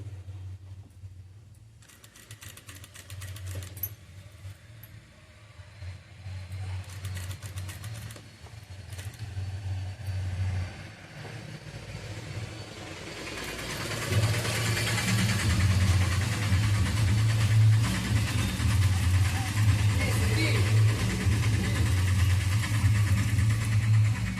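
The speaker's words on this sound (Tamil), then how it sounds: "சவுண்டு கொஞ்சம் வண்டி சவுண்டெல்லாம் அதிகமாக வந்ததுன்னா கொஞ்சம் அட்ஜஸ்ட் பண்ணிக்கோங்க" Traffic on the main road outside a tailoring shop rumbles past steadily, engines humming and swelling louder toward the end as vehicles pass close by.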